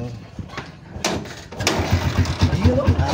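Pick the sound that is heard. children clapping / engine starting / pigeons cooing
engine starting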